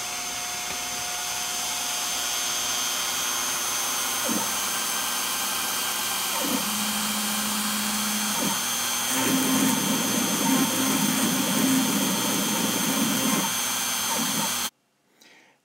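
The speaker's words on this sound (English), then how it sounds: "So now I'm going to turn on the spindle." A CNC router spindle carving a wooden sign sets up a steady machine whine and hum with shifting cutting noise that rises and roughens partway through, running continuously until an abrupt cutoff near the end.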